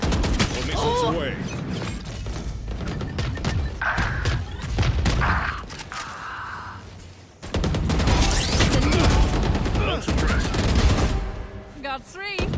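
Missile launches and gunfire in Valorant during a competitive match, a dense, loud barrage of shots and booms with bursts of rapid fire, game voice lines and speech faintly mixed beneath.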